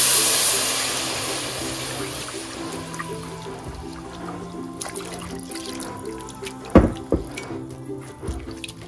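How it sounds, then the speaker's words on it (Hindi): Cold milk poured into a pan of browned ingredients, giving a steady, close liquid rush and trickle that fades, then a couple of sharp splashy knocks near the end. "इसमें अब आप डालें कोल्ड मिल्क।"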